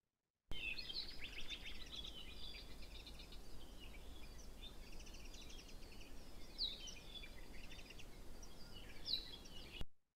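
Several birds chirp and trill in the high register over a steady background hiss, their calls overlapping in short bursts throughout, recorded in the quiet before helicopter noise.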